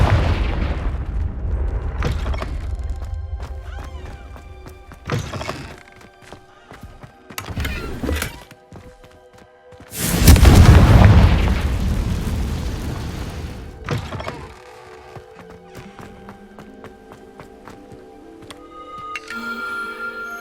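Confringo spell blasts in the Hogwarts Legacy video game, with loud booming bursts around the start, 5 and 8 seconds and a large explosive roar near 10 seconds, over quiet game ambience.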